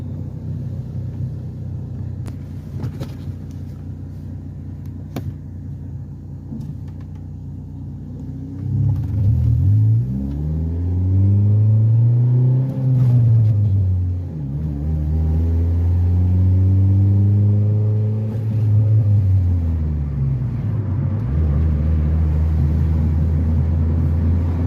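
Engine of a manual transmission car cruising in neutral, a steady low rumble that swells and dips in pitch as the car coasts, close and continuous with no talking.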